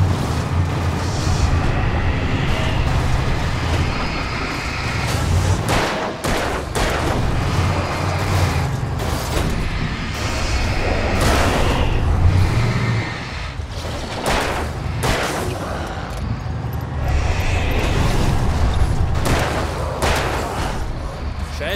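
Revolver gunshots ring out in the Alan Wake video game, a rapid run of sharp broadband cracks over steady game ambience and a low rumble, loud and close throughout.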